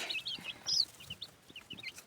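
Chicks peep softly in a coop in short, high, scattered cheeps, with faint clucking from hens underneath, all quiet and close, without any talking.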